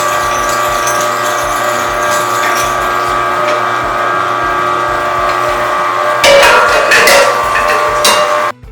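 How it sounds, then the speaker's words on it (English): An electric meat grinder grinds salmon for burgers, a steady motor hum and whir with small shifts in load, growing louder and rougher near the end before it cuts off. "The next step in making our salmon burgers is to grind the meat."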